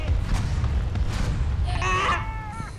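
M8 rockets striking a Panzer 4C tank in War Thunder, heavy booming impacts over a rumbling low background, with a brief voice-like tonal sound near the end.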